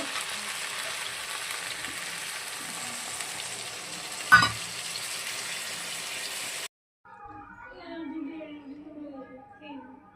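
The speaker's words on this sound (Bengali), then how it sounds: "এই বন্ধুরা এবার আমি হালকা জল দিয়ে দিচ্ছি" Fish-bone curry sizzles steadily in a pan as a little water goes in, with one sharp clatter midway. The frying cuts off abruptly, and a person talks over quiet room sound afterwards.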